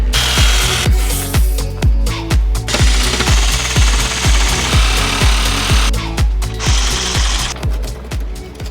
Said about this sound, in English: Let's see if I can use a reciprocating saw.